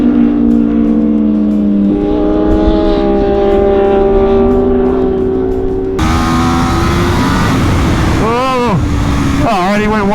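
Aprilia RSV4 Factory superbike accelerating hard around a race track, its loud high engine climbing through gears with sharp shifts, then wind rush and rapid up-and-down revving as it brakes into corners.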